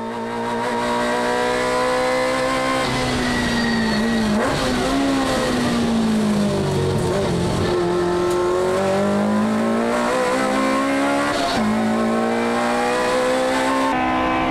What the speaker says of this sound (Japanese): さあこれが最後の勝負か杉林 加速では小清水号が速い